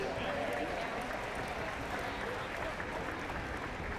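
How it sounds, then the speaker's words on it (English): Applause from a large crowd at a college ice hockey game fills the arena steadily, a dense wash of clapping at moderate distance without a clear break. "Have a round of applause for the family members of the RPI Engineers."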